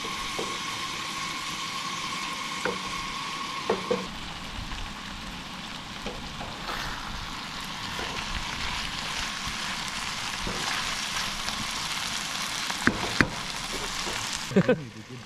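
Potatoes fry and crisp in a pan during winter truck camping, a steady soft sizzle and crackle running continuously, with a few sharp clinks of stirring near the end.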